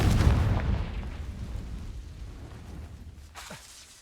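A Confringo explosion spell from Hogwarts Legacy booms loudly at the start, then rolls off into a decaying rumble, with a small pop near the end.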